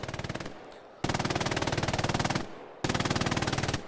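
Sustained machine gun fire in the online war game Hell Let Loose, during an 18-versus-18 tournament match, rattling in loud rapid bursts with two brief pauses between them.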